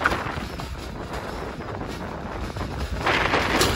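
Wind rushes over the microphone while riding a scooter along a rough, unpaved road, a steady close buffeting that swells slightly near the end.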